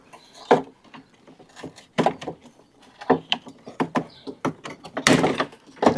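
Metal locking rods on a Jeep Gladiator tailgate mechanism are pried off, making a run of sharp, close clicks, snaps and small clunks spaced irregularly across the stretch, with quiet gaps between them.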